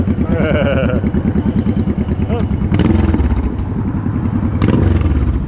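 A motorcycle engine rumbles along a city street in evening sun, loud and close with a steady throbbing drone and a few clattering knocks, voices mixed in.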